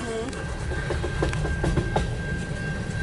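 Wheels of a long CN eastbound mixed freight train clatter past nearby in Port Huron, Michigan, a dense rumble punctuated by repeated clicking rail-joint hits, with a faint voice briefly audible beneath.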